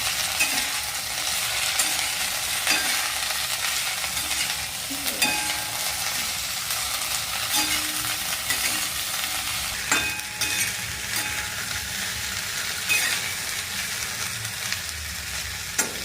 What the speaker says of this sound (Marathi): लगेच ही भेंडी टाकायची आपल्याला. याला मस्त असं हलवून घ्यायचं.